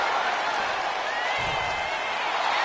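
A steady wash of arena crowd noise from the WWE 2K26 wrestling video game on PS5, a continuous roar of cheering and clapping that holds evenly throughout.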